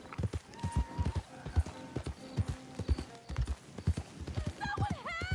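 Horse hooves clip-clop in a steady rhythm through a Red Dead Redemption 2 game scene, close and fairly loud, with a brief whinny near the end and some voices talking over the hoofbeats.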